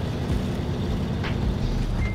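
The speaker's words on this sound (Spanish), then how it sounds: "darle vuelta a nuestro camión, a nuestro Fletstar, para que quede viendo con el motor hacia este árbol" A Fleetstar truck reverses in the video game SnowRunner, its engine giving a steady, close, low rumble throughout, with a faint high beep near the end.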